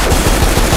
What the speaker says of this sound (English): And as we've seen in the Space Jam trailer, Sam does indeed use the guns.